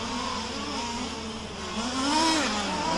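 Zenoah-powered RC race cars competing in an A main at Warm Springs, small two-stroke engines buzzing and revving continuously, with pitch rising and falling as the cars pass, fairly loud and close.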